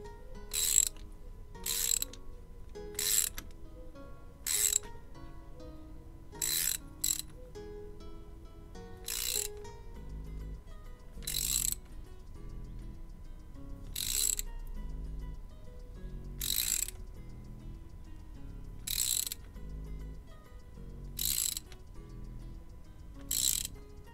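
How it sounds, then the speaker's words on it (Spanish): Ratchet wrench tightening the driveshaft on a Golf 5 GTI, heard as a series of sharp clicking bursts repeating at irregular intervals over a low steady background, close and moderately loud, with no talking. "una vez tengamos todo lo apretado que podamos con la carraca"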